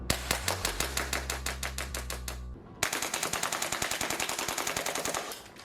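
Airsoft gun firing with a T238 tracer unit attached, two rapid full-auto bursts of sharp, evenly spaced cracks, loud and close, separated by a short gap.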